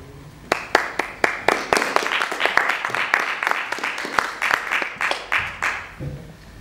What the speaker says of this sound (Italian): grazie per l'applauso preventivo